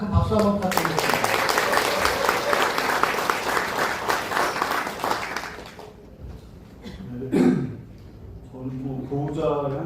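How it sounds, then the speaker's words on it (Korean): Audience members at a long-term care facility event clap warmly for a resident's family guardian, dense applause lasting about five seconds before fading, after which a voice begins speaking. "나오빈 보호자님께 큰 박수 한번 부탁드리겠습니다."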